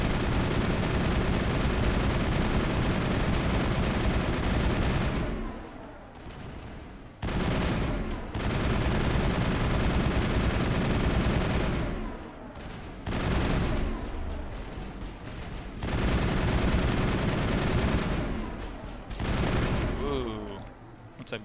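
Sustained automatic gunfire and explosive bursts from a shootout in the video game Mass Effect 1, loud and dense, broken by a few short lulls, with game voices faintly mixed in.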